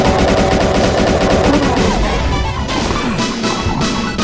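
Rapid chaingun fire from the Auger Zenith mod for Doom 2, a loud, dense stream of crashing, metallic shots that runs steadily for about four seconds, joined by other impacts and game noise.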